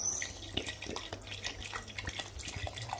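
Cold water is poured into a bowl of okroshka, a chilled Russian soup, giving a faint, close trickle with small drips and splashes and no speech.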